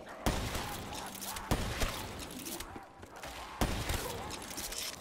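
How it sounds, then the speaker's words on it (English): Gunshots in a zombies video game: three sharp, loud reports spaced a second or two apart, with clatter and game noise between them. "Can you hear my gunshot?"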